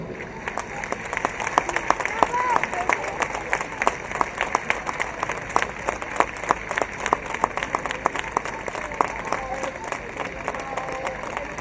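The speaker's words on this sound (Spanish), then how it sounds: "Y ahora quiero que el aplauso que vais a daros lo escuchen en toda España" A large crowd at a Valencia charity event against cancer applauds steadily and loudly for about twelve seconds, dense clapping with some cheering mixed in.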